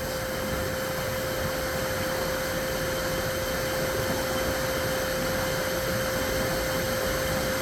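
A blower forces air out of swimming pool plumbing lines while a pool with main drains is winterized, producing a loud, constant roar with a steady tonal whine that holds for the full stretch.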